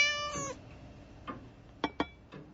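A cat meows clearly and fairly loudly at the start, followed by a few shorter, fainter mewing sounds in a quiet setting.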